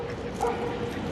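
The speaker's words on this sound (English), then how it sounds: "So many dogs as well. Doggy daycare." Dogs at a doggy daycare in Medellín, Colombia, barking and yipping with a faint whimper, sounding moderately near against steady background noise.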